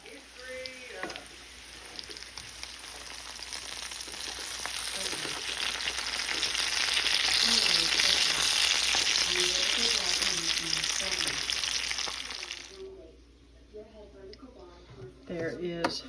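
Potatoes fry in a pan with a steady, loud sizzle that swells through the middle and cuts off near the end, with someone talking over the frying.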